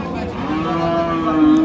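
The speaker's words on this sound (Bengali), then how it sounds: "বিগ সাইজের গাভী দর্শক এগুলো" Cows low at a busy cattle market in Ambari, Dinajpur, a drawn-out moo rising and holding steady over the constant din of the crowd.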